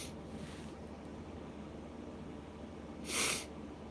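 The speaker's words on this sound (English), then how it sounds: "Sorry for the sniffles and shit." Two short nasal sniffles from someone with a head cold, a faint one near the start and a louder, closer snort-like sniff a few seconds later over quiet room hiss.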